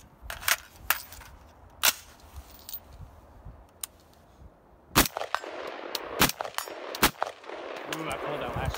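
Rifle shots fired at a shooting practice session, several sharp cracks spaced irregularly at close range, with a denser cluster later amid some background rustle.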